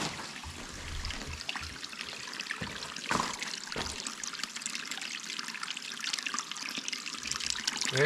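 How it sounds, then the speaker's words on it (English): A babbling brook runs inside a lake cave, water trickling and splashing steadily up close, with a bright, continuous flow and a few soft knocks, no voices. "There's our babbling brook right there."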